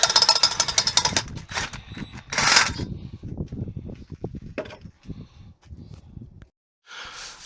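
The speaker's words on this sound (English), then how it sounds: "once you've got your two holes through at your angle with the drill" A power drill with a hole saw whines through metal tube in loud bursts, cutting an angled notch, with knocking and scraping between runs and a short final burst after a brief pause.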